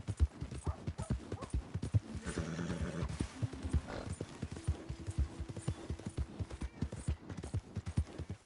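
Steady clip-clop of horse hooves trotting along in the video game Red Dead Redemption 2, close and rhythmic, with a brief whinny partway through; no one speaks.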